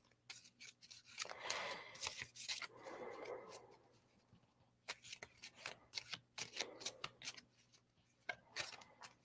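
Tarot cards riffled and shuffled by hand at close range, bursts of crisp papery flutter and slaps repeating across the whole stretch with brief pauses between rounds.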